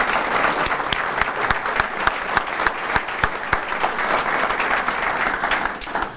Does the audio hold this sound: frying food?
no